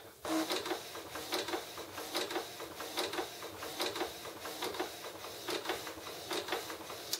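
A Canon inkjet printer's print head shuttles back and forth with a repeating whirring and clicking rhythm, fairly quiet and steady, no voices.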